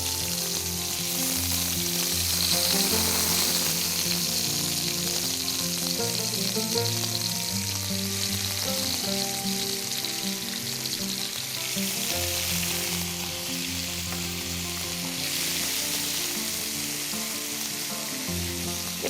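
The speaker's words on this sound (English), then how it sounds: "So now that our oil is hot, I'm going to put in the prawns, and we are going to fry them." Prawns fry in hot regular cooking oil, a loud continuous sizzle and crackle with bubbling pops that carries on steadily without pause, close by and alone.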